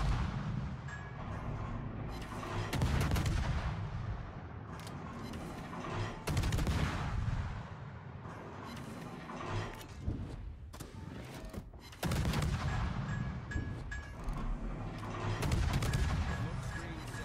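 Battleship guns and other naval fire boom in the World of Warships video game, repeated heavy blasts and explosions over a continuous loud rumble, with someone talking at times.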